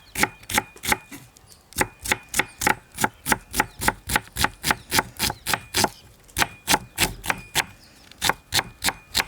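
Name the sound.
knife chopping onions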